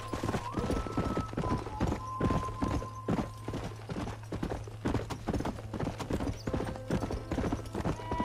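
Horse hooves clip-clop in a steady galloping rhythm in the video game Red Dead Redemption, loud and close, with a faint whinny and a held background tone.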